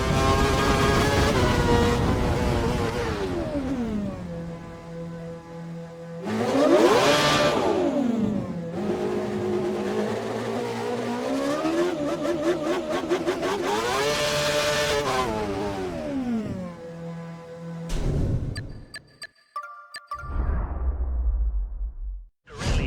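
A Formula 1 car in the F1 2012 racing game howls through the last sector of a wet lap, its engine rising and falling through gear changes and corners, loud and close, before easing off near the end.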